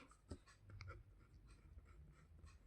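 Marker or pen scratching across a classroom board during a Class 7 algebra lesson, a run of short light strokes over about three seconds, fairly faint and close, with no talking.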